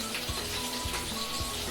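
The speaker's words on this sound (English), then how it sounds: "So now we're ready to saute the white onions." White onions sauteing in a pan for Filipino chicken rice porridge, a continuous close sizzle at steady volume with soft repeating thumps underneath.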